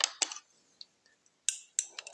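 A utensil stirs melted coffee soap in a metal pot, making sparse bright clinks and scrapes in small clusters, close and crisp against near silence.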